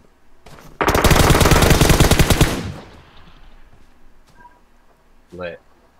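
Automatic gunfire in PUBG Mobile, a dense rapid burst of shots lasting a couple of seconds, loud and close, followed by quieter game ambience and a brief voice.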